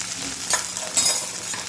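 Mangalore-style chicken sukka sizzles and fries steadily in a pan, with a continuous crackling hiss and a couple of brief louder scraping bursts as it is stirred.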